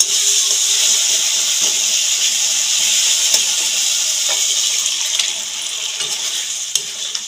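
Boiled dal lentils are poured into fried spice masala in hot oil for a Bengali dal with eggs, giving a loud, steady sizzling hiss that continues throughout and eases slightly near the end.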